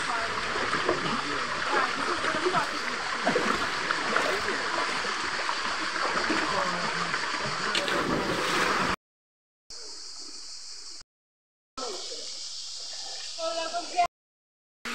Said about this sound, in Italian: Ed eccoci qui sull'orlo della cascata.